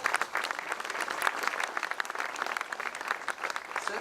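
A seated audience applauds at a consul general's Bastille Day reception in Agadir, a steady, dense round of clapping that holds at even strength throughout with no voices on top.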